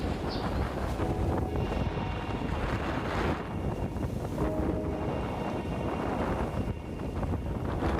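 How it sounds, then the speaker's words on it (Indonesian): Strong wind and rising waves at sea around a fishing boat off Tanjung Priok, a continuous loud rush of wind buffeting with water wash and hull noise, sustained throughout with no talk. "Ombak udah agak mulai tinggi, angin mulai nambah kencang, jadi kita memutuskan untuk pulang guys."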